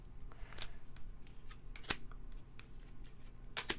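Tarot cards being shuffled and cut at close range, with quiet riffling and soft slaps of card stock and a few sharp snaps, no voices.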